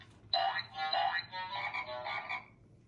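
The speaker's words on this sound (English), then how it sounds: "Green frog hops along." A frog croaks in a rapid, rattling series of calls, clear and close, with no voices around it.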